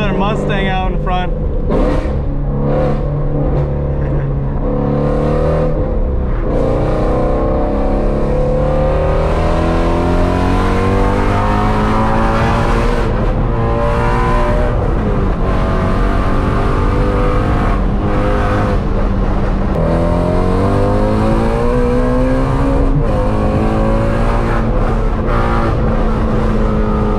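A Ford Mustang with a manual gearbox accelerates hard through repeated gear shifts, loud close engine revs rising in pitch then dropping at each change, with a person talking over it.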